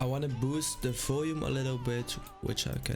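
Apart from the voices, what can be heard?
No everyday noises stand out.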